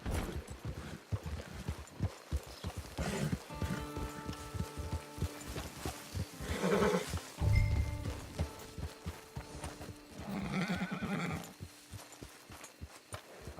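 Horse sounds from Red Dead Redemption 2 online, with moderate hoof clatter and snorting-like bursts over ambient game noise and music-like tones, no talking.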